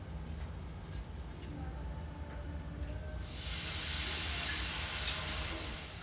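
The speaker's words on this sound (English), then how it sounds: "I'm going to deglaze it with a little masala wine." Marsala wine hits a hot pan while deglazing pork, breaking into a loud, steady sizzle partway through that holds bright and close to the end, after a quieter stretch of background hiss.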